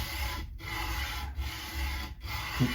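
Close, steady rasping strokes of sanding an Epiphone Les Paul guitar nut flat, with brief pauses between passes and no talking.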